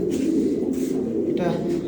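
A black pigeon in a loft gives low, throaty coos that are continuous and close, heard under a person talking.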